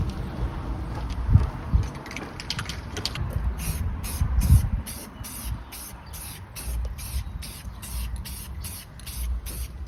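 Aerosol spray paint hissing onto a 2011 GMC Acadia in short, repeated bursts, close and steady, with a few faint handling noises.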